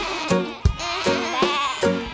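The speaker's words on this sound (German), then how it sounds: "Was sagt die Ziege?" A goat bleats several times in a row, each wavering cry short and close, with brief gaps between calls, set inside a children's song about animal sounds.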